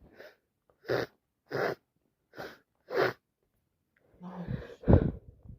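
Several sharp, wet sneezes from a person with a bad cold, about five in quick succession, loud and close, followed by a messier burst of snorting and nose noise.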